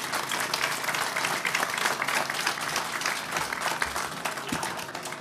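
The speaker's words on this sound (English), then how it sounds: "Let's give them a round of applause." Sustained audience applause at a retirement community's groundbreaking ceremony, a dense wash of clapping from a sizable crowd holding steady at moderate loudness for several seconds without a voice over it.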